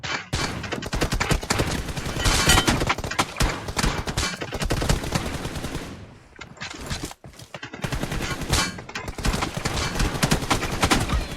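Rapid gunfire from PUBG Mobile during a 1v1 match, dense volleys and automatic bursts filling most of the stretch, loud and close, with a brief lull near the middle before firing resumes.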